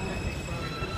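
A New York subway train in motion, a loud, dense and continuous rumble with rattling and faint high whine, heard close from inside the car.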